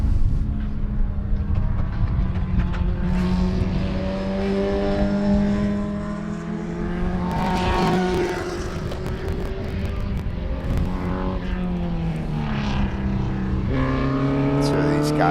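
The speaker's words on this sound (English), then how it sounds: "amazing race cars" Race cars in an SCCA club feature race at Sebring roar past one after another, engine notes climbing and falling as they accelerate and pass. The droning, layered engine sound continues throughout.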